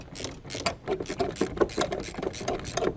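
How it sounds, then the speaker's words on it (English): Ratchet tightening the two mounting nuts on a Ford Explorer 3.5 brake master cylinder, turning a 13mm deep socket on an extension bar: a quick run of close, rhythmic mechanical clicks over a steady background hum. "Use a medium 13mm deep socket, a medium long extension bar, and a medium ratchet to tighten the 2 mounting nuts on the brake master cylinder"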